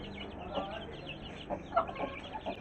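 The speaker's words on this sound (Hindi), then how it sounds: "9 चूज़े हैं इस मुर्गी के" A hen with nine young chicks clucks softly in an open yard, a few short, faint clucks spaced through a quiet outdoor background.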